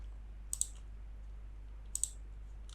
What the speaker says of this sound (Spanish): hacemos clic en la parte de configuración